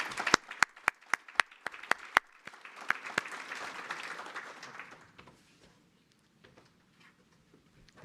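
At a conference opening ceremony in Toronto, a small audience gives sparse applause: sharp, distinct hand claps at first, then a brief softer patter that fades quickly into near silence.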